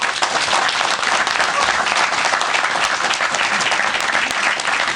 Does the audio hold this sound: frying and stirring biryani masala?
no